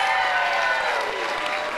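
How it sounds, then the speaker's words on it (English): An audience at the Stars of Lismore 2019 event breaks into steady, full applause, a continuous wash of many hands clapping for about two seconds with no talk over it. "Give her a round of applause."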